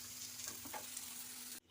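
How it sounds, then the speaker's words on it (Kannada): Bottle gourd pieces fry in a pan with a steady, quiet sizzle and a little stirring, going on evenly for under two seconds before cutting off abruptly. "ಸೋರೆಕಾಯಿ ಈಗ ಚೆನ್ನಾಗಿ ಫ್ರೈ ಆಗಿದೆ"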